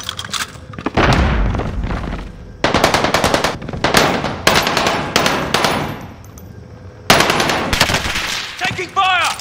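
Loud bursts of automatic gunfire in Call of Duty Warzone come in several long rattling volleys separated by short pauses, with thuds and booms mixed in and a brief game voice at the end.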